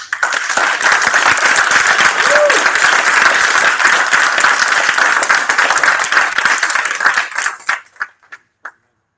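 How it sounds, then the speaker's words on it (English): Conference audience applauding, a dense, loud burst of many hands clapping that holds steady, then thins to a few scattered claps and stops. "you deserve a huge round of applause"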